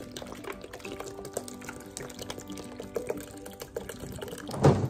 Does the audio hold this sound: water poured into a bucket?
yes